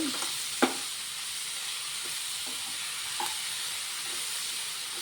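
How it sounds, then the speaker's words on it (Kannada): Capsicum sautéing in a pan over a medium flame for a dry palya, a steady broadband sizzle with a few soft stirring clacks, close and continuous throughout. "ಇದಿನ್ನು ಮೀಡಿಯಮ್ ಫ್ಲೇಮಲ್ಲಿ ಒಂದು ಐದು ನಿಮಿಷ ಹೀಗೆ ಬಾದಲಿ"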